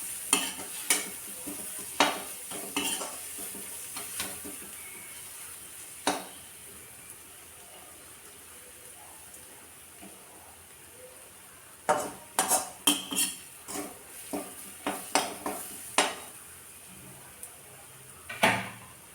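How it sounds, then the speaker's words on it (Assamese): Local fish frying in a pan is stirred with a utensil, giving steady sizzling under repeated scraping and clinking strokes, with clusters of sharp metallic knocks near the end; no one speaks. "এতিয়া এইখিনি লৰাই দিম।"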